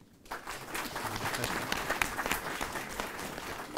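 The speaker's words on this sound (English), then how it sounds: "And you must clap for that." Students and guests at a winter school on plant pathogen genomics clap together, a moderately loud round of applause that starts abruptly and keeps an even, busy patter to the end.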